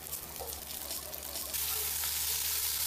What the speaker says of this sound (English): Oil. Beef. Don't overcrowd the pan.